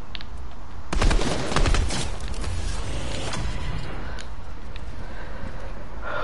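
Gunfire from a Fortnite match: dense, rapid bursts of shots that sound loud and close, with the heaviest volley near the start and steady shooting carrying on after it.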